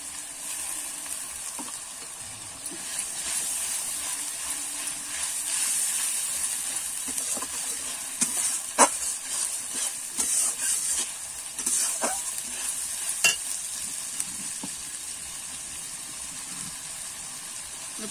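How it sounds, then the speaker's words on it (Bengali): Onion paste fries in a pan with steady, soft sizzling, joined by scraping stir strokes and a few sharper clinks of the spoon against the pan. No one talks. "পেঁয়াজ বাটাটা কিন্তু আর একটু আমি কষিয়ে নেব।"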